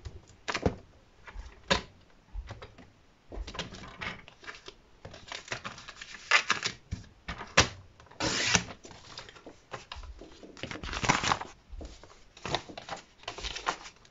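Scissors cut through paper envelope flaps while an album is assembled: a series of quiet, close, irregular snips and paper rustles with short pauses between them.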